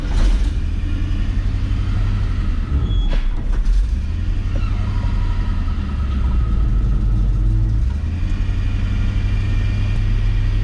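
A 1978 Chevy ramp truck, a race car hauler, rumbles with a steady low engine drone that swells and dips, loud and close, with no talk over it.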